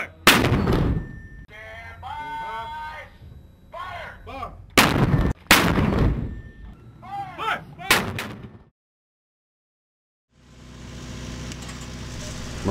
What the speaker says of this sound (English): Set up and fire the Expeditionary Fire Support System during a training evolution